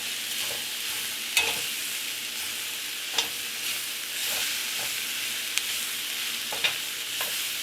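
Mongolian beef and peppers frying in a pan, a steady hiss of sizzling with occasional sharp scrapes and clinks of a utensil stirring, close and continuous without speech.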